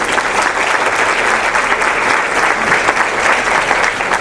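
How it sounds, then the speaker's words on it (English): Sustained audience applause at an educators' summit, a dense steady wash of many hands clapping at close range, with no speech over it. "Let's give them all a round of applause."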